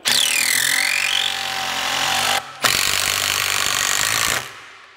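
Makita cordless drill driving screws: two loud, sustained bursts of motor whine and grinding with a shifting pitch, separated by a brief pause, then stopping.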